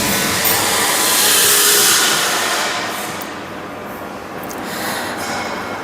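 A BlastKing sand blasting machine runs with its rotary table turning, giving a continuous loud rushing hiss of blasting air and grit that swells and eases slightly but never stops.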